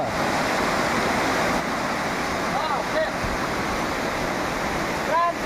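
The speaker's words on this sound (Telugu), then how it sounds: "చాలా పెద్ద వాటర్ ఫాల్స్ అనమాట" A large waterfall set among hills thunders as a steady, loud broadband roar of falling water, close and continuous throughout, with faint bird calls cutting through now and then.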